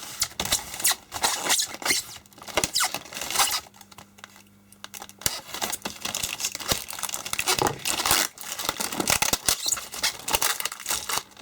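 Plastic packaging around a Roband Nixie tube digital voltmeter is cut and torn open up close, giving continuous crinkling, crackling and sharp snaps with brief quieter gaps and no speech.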